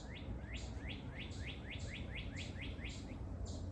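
Small bird chirping outdoors, a quick, steady run of bright, down-slurred tweets repeated about three times a second, faint against a soft background hiss, with no voices.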